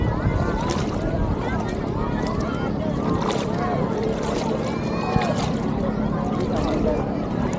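A twin-engine boat drones steadily beneath wind buffeting the microphone, with voices faintly audible over the continuous rumble.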